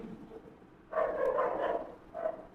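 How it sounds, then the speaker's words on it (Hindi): A dog barks nearby with one longer bark and then a shorter second bark, heard alone with no one talking. "पता नहीं जिस दिन पढ़ाया उसी दिन भौंका भागी शुरू।"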